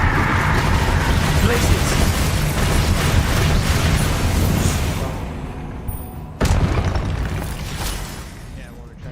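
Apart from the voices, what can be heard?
Confringo spell explosions in the video game Hogwarts Legacy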